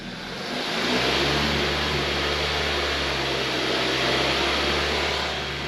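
A Hyundai Tucson engine revs up to 2,000 RPM within the first second and holds a steady, even drone for the rest of the clip.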